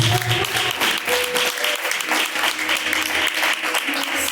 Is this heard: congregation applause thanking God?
yes